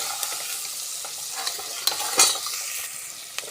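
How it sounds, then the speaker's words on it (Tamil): Onions sautéing in a pan for tomato rice, a steady bright sizzle with repeated scraping stirs and a few clinks of the spoon, close and continuous with no voices. "ஆனியன் வந்து நல்லா நமக்கு பொன்னிறமாக வதங்கணும், நல்லா வதக்கி விட்டுக்கலாம்"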